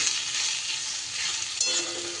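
Snake gourd sizzling steadily in a hot pan, a close continuous hiss with a soft stir partway through and no talking.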